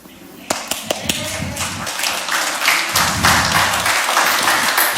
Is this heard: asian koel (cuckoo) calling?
no